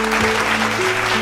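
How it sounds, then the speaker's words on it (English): An audience applauds to welcome a guest onto a bilingual Hindi-English talk show stage: a brief, dense wash of clapping over a steady tonal hum. "So, let us welcome Dr. Raj Deepak Mishra with a huge round of applause."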